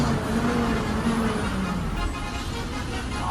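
Trucks and luxury buses sit stuck in a road traffic jam, making a continuous, fairly loud engine drone with a low tonal hum and no pauses.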